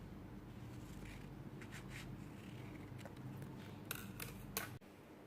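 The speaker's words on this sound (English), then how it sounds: "I'm going to cut it half." Scissors snip a Thermarest cover patch in half with a few quiet, crisp cuts over faint background hiss, ending in a sharp final snip.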